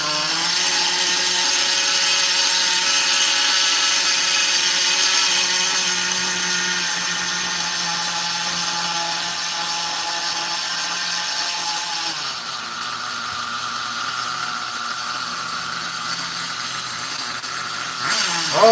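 Nitro engine of an X Ray RX8 RC car running steadily for most of the clip with a harsh, buzzing high-pitched whine. Midway the pitch drops to a lower, smoother idle, and the engine revs up sharply at the end.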